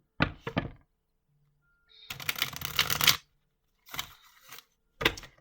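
Tarot cards are shuffled and handled in short bursts: a quick riffle of flicks, then a longer ruffling shuffle, followed by two brief card snaps, close and distinct with silence between.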